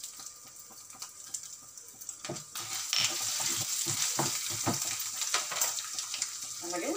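Ginger fries in oil with mustard seeds for lemon rice, a quiet sizzle that swells into a louder, steady crackle, with scattered stirring knocks and scrapes.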